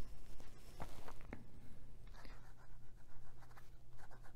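A Pilot Custom Heritage 92 fountain pen with a fine nib scratches softly across paper in short close strokes, faint against a low steady hum.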